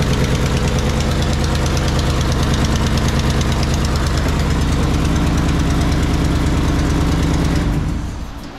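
A neglected 1977 Datsun 280Z engine runs on its first start with no coolant, a loud, steady, knocking idle that holds for about eight seconds before cutting off.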